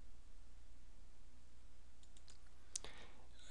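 A single sharp computer mouse click on a button in a WordPress keyword research plugin, near and brief, with faint soft clicks just before it over a steady low hum.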